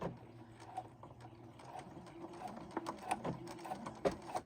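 A sewing machine locks its stitches at the end of a pant hem with a quick, quiet, repeating mechanical clatter that runs on without a break.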